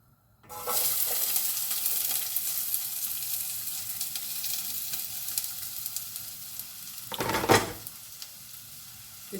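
Onions hit a hot pan for a Thai shrimp soup and break into a loud, steady sizzle that holds throughout, with a brief louder scrape or splash near the end.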